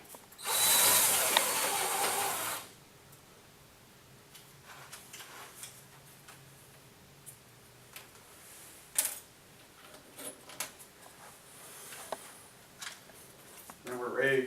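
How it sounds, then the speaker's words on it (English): A power drill whirs loudly for about two seconds while boring a mounting hole, then stops, leaving quiet handling clicks and taps. "take the drill"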